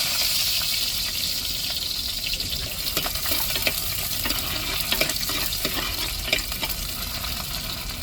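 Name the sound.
onions frying in oil for tempering fish curry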